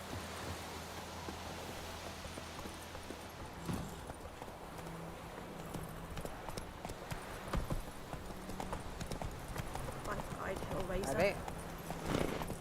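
Roach the horse from The Witcher 3 clops along in a rhythmic gallop, moderately close, beneath a steady noisy backdrop with people talking over it.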